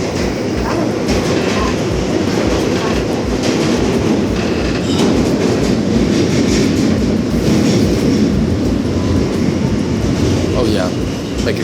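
A train rumbles steadily along the rails, heard from inside, with continuous roaring noise and faint clacking throughout.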